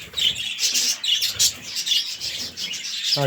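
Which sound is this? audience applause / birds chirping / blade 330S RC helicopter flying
birds chirping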